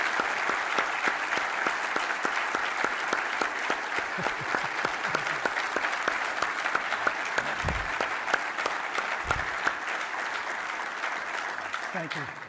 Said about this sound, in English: I think we can all give MCPON Stevens a round of applause for what he's done for us.